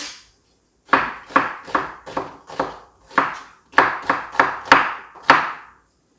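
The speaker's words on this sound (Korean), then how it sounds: "영양고추는 반을 이렇게 잘라주세요." A knife chops through Yeongyang chili peppers on a cutting board, about ten sharp, close knocks in an uneven rhythm, with no talking.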